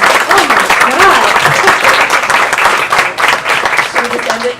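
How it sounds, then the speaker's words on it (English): An audience at a women-in-entertainment panel bursts into sustained applause and clapping with crowd noise, loud and continuous, while voices call out over it. "Guys, can we give her a round of applause?"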